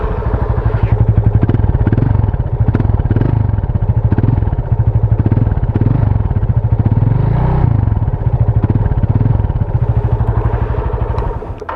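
A Yamaha FZ25 motorcycle engine revving in neutral, heard as a loud, close, steady single-cylinder thrum with rhythmic pulsing throughout, alone without talk.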